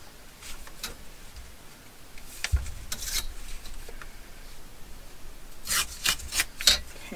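Paper is torn and then trimmed for an envelope decoration, giving a quiet rubbing rasp with scattered crisp tears and snips near the end, close by and soft, with no voices.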